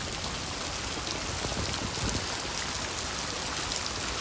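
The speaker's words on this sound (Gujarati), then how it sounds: "જો વરસાદ ભાઈ બૂમ પડાવી રહ્યો છે અત્યારે" A downpour of heavy rain hisses continuously, with a thick wash of drops drumming on surfaces nearby and no voices.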